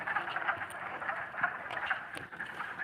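Yellow frogs calling in breeding season at a Northampton, Massachusetts wildlife sanctuary, a dense chorus of soft, squeaky chirps and patters carrying from a distance at moderate volume, with no talking.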